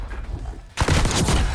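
Rapid gunfire bursts in a Call of Duty multiplayer match, including shotgun blasts, starting softer then turning loud, dense and continuous after the first part.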